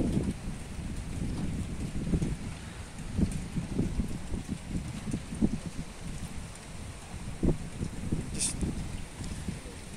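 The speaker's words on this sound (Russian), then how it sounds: "Вышли погулять с собакой, и тут такой дождь идет." Steady rain falls during a night walk with a dog on a Kyiv street, a continuous soft hiss of drops spreading across the whole clip with faint scattered taps and no voices.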